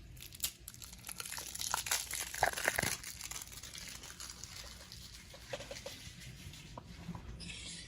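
Crinkly packaging of a pineapple-flavoured vape e-liquid is torn and unwrapped up close, giving irregular crackles and rustles with a few sharper rips, quiet overall.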